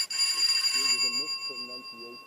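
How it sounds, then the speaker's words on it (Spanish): A doorbell gives a bright ringing chime at the start and fades quickly, then a voice speaks alone. "El timbre sonó, pero lo ignoró."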